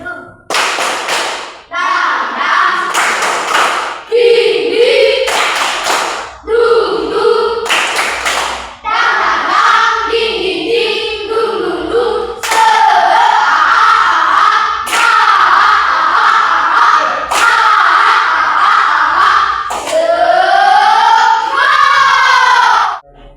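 A classroom of children chants loudly in unison while clapping a brisk, rhythmic pattern in the Tepuk Semangat game, with sharp repeated hand claps cutting through the singsong voices throughout.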